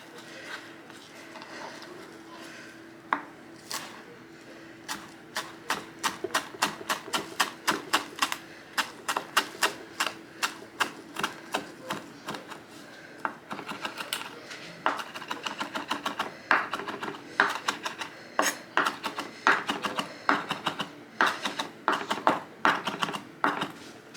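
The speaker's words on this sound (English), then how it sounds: "we're gonna get these chives chopped up" Fresh chives chopped with a knife on a cutting board in a home kitchen, a long run of quick, crisp taps that starts sparse, then settles into a dense, steady rhythm, close and clear with no talking.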